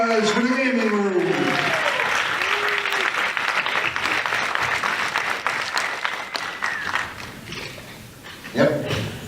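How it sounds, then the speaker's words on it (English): A crowd at a comedy show at PopCon Indy bursts into applause and cheering after a speaking voice, with a brief voice near the end and a dog barking somewhere. "Round of applause for the gaming room."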